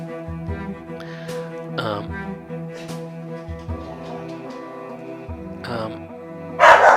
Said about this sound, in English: He loves to bark.